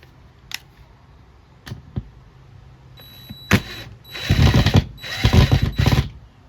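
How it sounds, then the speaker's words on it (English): A power drill whirs in a few short bursts, removing screws from a patio outlet cover, with clicks and handling clatter before and between the buzzing spurts, close by. "we're gonna take off these screws. Super easy. Just grab your trusty handy drill."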